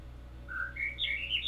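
Two birds in The Witness whistle clear, rising chirps that overlap, short bright notes in quick succession against a quiet ambient background.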